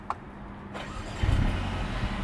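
A 2019 Mercedes A35 AMG engine starting: a faint click, then a brief low starter churn that settles into a quiet, smooth idle hum, subdued enough to feel almost like a hybrid.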